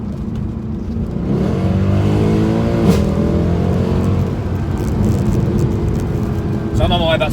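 A car engine fitted with decat exhaust piping revs and pulls hard through the gears, a loud, steady drone with rising pitch sweeps, heard from inside the cabin with a voice talking over it.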